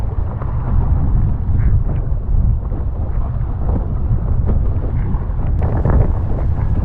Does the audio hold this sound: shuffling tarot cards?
no